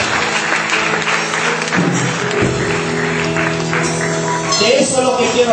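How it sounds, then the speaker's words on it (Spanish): A church congregation claps for the Lord in a steady wash of applause, mixed with sustained keyboard chords and a voice speaking over it. "Dale ese aplauso al Señor,"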